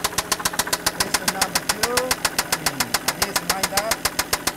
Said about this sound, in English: trying to find this rather loud engine knock in this 1997 Toyota Land Cruiser